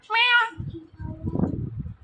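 A parrot's high, harmonic meow-like call imitating a cat, followed by a low mumbling voice underneath, close and fairly loud.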